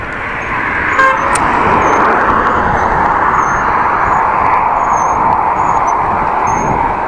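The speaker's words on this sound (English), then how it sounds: "A monotone sound of cars passing." A continuous wash of road traffic beside a bike lane between Groningen and Appingedam, Netherlands, roars steadily nearby, cars passing in an unbroken drone, with a brief faint horn toot early on.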